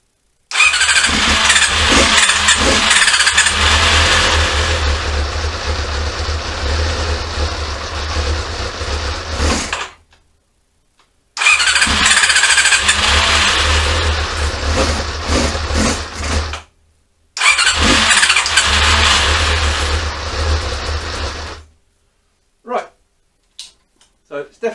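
A Honda CB-1 (NC27) motorcycle with starting problems, fed by a raised gravity fuel supply, cranks and fires, idling loudly up close in three long runs separated by stalls and restarts, with speech over it.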